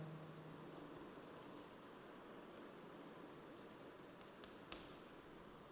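Pen or pencil writing out math working on paper, a continuous faint scratching with small strokes and one tap near the end, close and quiet with no talk.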